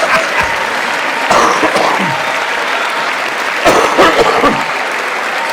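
Crowd applause continues as a steady clatter, with a few coughs and brief murmurs breaking through near the start and toward the end.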